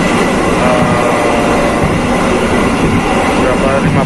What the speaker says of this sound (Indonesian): kereta api Gumarang sudah berangkat dari stasiun Pasar Turi